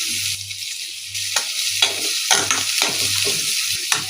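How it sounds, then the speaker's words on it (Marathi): Onion frying in oil with asafoetida for prawn masala, a bright continuous sizzle broken by rhythmic scraping strokes of stirring, close up with a low hum underneath. "आता सगळ्यात आधी कांदा घातला आहे तर ढवळून घेणार"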